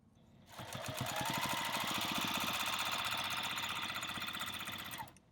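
A sewing machine stitching quilt binding, running in one continuous fast, even whirr close by for about four seconds, starting and stopping cleanly, with no talk.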